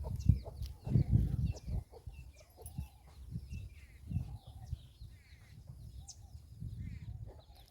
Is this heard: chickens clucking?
yes